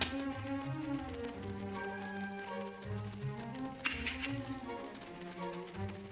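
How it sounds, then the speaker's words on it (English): Fairies caught in a net buzz in the Wonderbook: Book of Potions video game, a layered, wavering hum with tonal notes shifting over a steady bed of game music. "Listen to them buzz."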